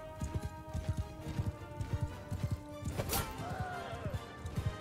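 Horse hooves clip-clop in a steady rapid rhythm during a battle in the video game Mount and Blade II: Bannerlord, with a brief whinny and a crash partway through.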